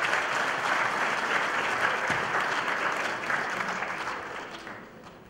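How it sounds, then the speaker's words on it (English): A church congregation at a wedding ceremony applauds its elders, a full wash of clapping that holds steady and then gradually thins and fades toward the end. "A round of applause to our elders for the Center."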